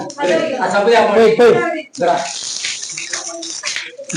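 Tap water gushes steadily while hands are washed, a loud splashing stream that carries on after a burst of nearby talking.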